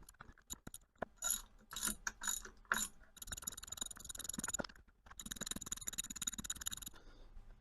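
Bursts of rapid ratchet clicking from a wrench snugging bolts on a Kurt machine vise under restoration, several short close runs followed by two longer continuous stretches of ratcheting.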